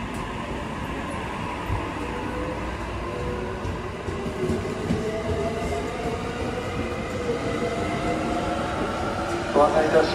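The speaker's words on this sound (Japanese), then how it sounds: "ドアが閉まります。" A Joban Line train sits at a platform as its doors close, then rolls away with a rising low rumble and rail noise, while station announcements play over the scene.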